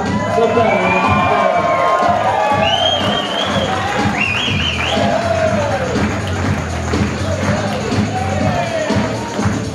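A crowd cheers, whoops and claps for a contestant at a hypnosis show, loud and continuous for several seconds, with shouted voices rising over the noise.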